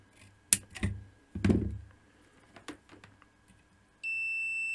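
After a few clicks and taps, a multimeter's continuity buzzer starts beeping abruptly, a steady electronic tone holding continuously at the end, close and clear, while checking a relay circuit for a short.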